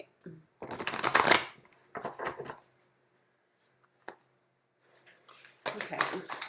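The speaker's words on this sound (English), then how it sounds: "Just going to get a couple more shuffles in." Tarot cards being shuffled by hand close up, several quick riffling bursts separated by short pauses and a single soft tap, fairly quiet.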